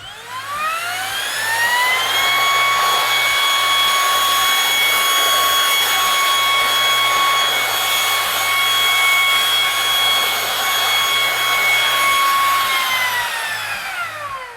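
Ryobi 18-volt ONE+ brushless Evercharge stick vacuum cleaner running, a smooth high-pitched motor whine that spins up, holds steady for about twelve seconds, then winds down, close and alone.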